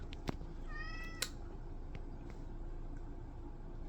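A pet cat gives a short series of meows, one clear drawn-out mew followed by fainter ones, fairly close in a quiet room with low background hum.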